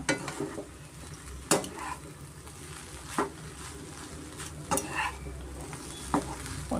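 A spatula stirs garlic egg rice with coriander in a pan, scraping in slow, regular strokes about every second and a half over a soft, steady sizzle, with occasional light clinks against the metal.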